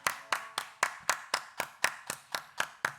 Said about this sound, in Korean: 하나님께 감사와 영광의 박수 드리시겠습니다